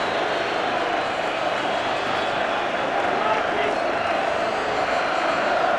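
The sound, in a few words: Wembley football crowd cheering and applauding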